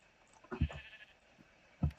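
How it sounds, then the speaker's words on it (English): A sheep in the video game Minecraft bleats twice, a short wavering cry followed by another after a brief pause, faint and alone with no talk. "Where did the sheep go?"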